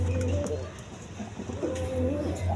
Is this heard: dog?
no